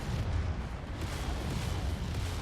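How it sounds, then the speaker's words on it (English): Mech combat explosion in the video game MechWarrior 5 rumbles as a continuous, heavy roar of blasts and deep booms, loud and dense throughout. "Trying to get out of that explosion."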